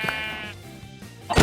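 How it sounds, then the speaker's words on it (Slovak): Sheep bleating in the video game Minecraft: a short wavering bleat at the start, then a second louder bleat cutting in at the end, with faint game ambience between. "Tam sú ďalšie ovce."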